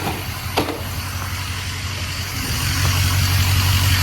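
A car engine, an Excursion, idling with no exhaust fitted: a steady rumbling idle with a sharp click early on, then a louder, deeper throb swelling in the last second and a half.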